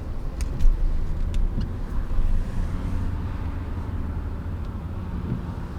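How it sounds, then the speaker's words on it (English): Steady low road rumble from inside a car driving in Belgium, a continuous engine and tire drone with small swells, loud and close throughout with no voices. "in case you wonder how driving in Belgium is, well,"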